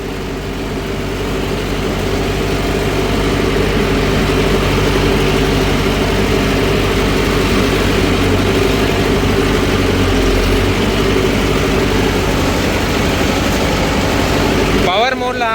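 A Mahindra Novo 755 CRDI tractor runs steadily while pulling a 9-tyne cultivator, its loud engine drone holding constant throughout with a brief change right at the end.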